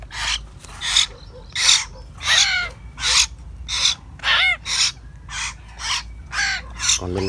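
Young hill mynas (nhồng yểng) for sale call in a run of about a dozen harsh, raspy squawks, some with whistled sweeps, each loud and close at a steady rhythm with no talk.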